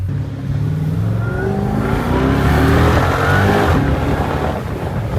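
A Hennessy-tuned Jeep with a supercharged Hellcat engine accelerating hard, its loud, steady engine roar rising in pitch with a whining tone layered over it, close and continuous, with no talking.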